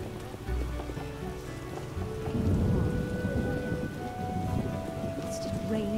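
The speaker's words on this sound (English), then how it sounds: "It's just raining right now." In The Witcher video game, steady rain falls with deep rolling thunder rumbling underneath, loud and continuous throughout, with no one talking.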